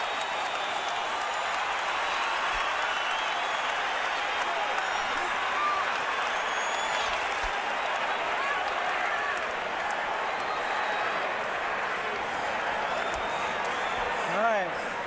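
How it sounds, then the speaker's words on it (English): A Las Vegas boxing arena crowd roars and applauds in a dense, sustained wall of noise at a Pacquiao versus Marquez fight, with a commentator talking over it. "The crowd's on its feet."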